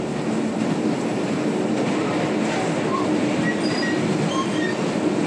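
A steady, loud rumble and hiss fills the cabin of an SA136 railcar riding along the track, with faint squeals and clicks over the continuous running noise and no talking.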